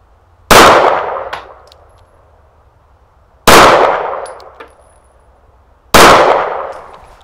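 Three loud handgun shots fired slowly at targets during a qualification course, each a sharp crack with a trailing echo, spaced about three seconds apart with no talk.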